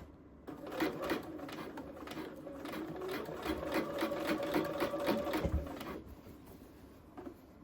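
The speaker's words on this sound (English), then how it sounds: "the arm of the sewing machine is going into the sleeve." A sewing machine stitches steadily for several seconds while setting a blazer sleeve, its rapid rhythmic clatter close and clear, then stops abruptly.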